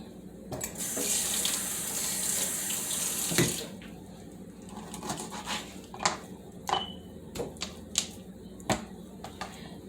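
Tap water runs into a sink over raw chicken wings, a steady loud gush that stops partway, followed by wet handling, knocks and clatters as the wings are moved.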